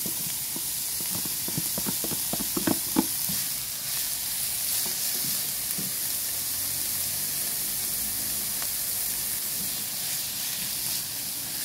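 Tomatoes fry in a pan for a tuna pasta breakfast, giving a continuous close hiss of sizzling, with a few sharp stirring clatters near the start and no speech.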